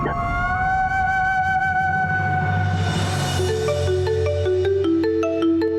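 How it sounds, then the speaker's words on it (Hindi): A phone ringtone plays a repeating electronic melody of stepped, bright tones. It is loud and clear, with no voices. "नंदिनी का फोन होगा।"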